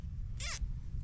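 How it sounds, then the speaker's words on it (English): Zip tie being pulled tight around wires during a Ford 2N tractor V6 swap, one quick ratcheting zip of about a fifth of a second, close and crisp over a low background rumble. "Then you take another zip tie and you put it between each wire"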